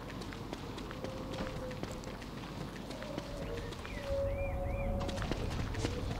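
Footsteps in the Don't Starve video game, a quick, light run of soft taps under faint ambient game sounds with brief chirps, quiet and steady throughout.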